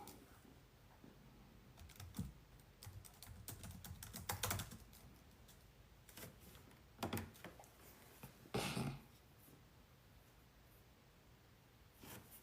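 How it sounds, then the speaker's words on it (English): Steady, close clatter of fingers typing on a computer keyboard, with uneven bursts of keystrokes and a few louder key presses over soft room noise. "Let me type this up"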